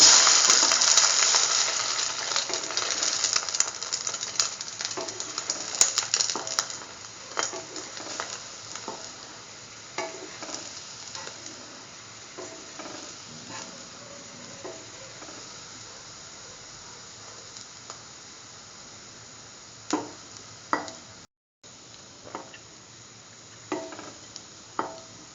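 Sweet potato French toast sandwich frying in a pan gives a steady sizzle, loudest at the start and easing off, with occasional sharp pops and crackles and scraping clicks from turning.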